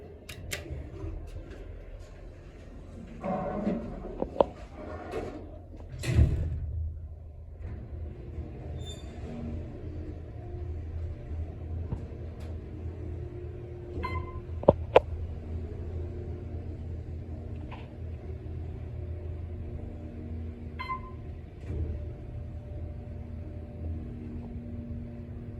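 OTIS Series 1 hydraulic elevator at a medical plaza, its motor giving a steady low rumble throughout, with a few door thumps and clunks and brief mechanical clicks standing out over the drone.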